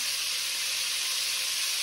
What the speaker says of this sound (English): We're not going to crowd this and talk over the sizzle.